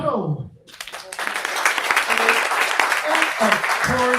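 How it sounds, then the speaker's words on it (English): An audience at a startup pitch event breaks into applause, a crackling burst of clapping that continues steadily while a host talks over it. "Big applause for Rudy Capital."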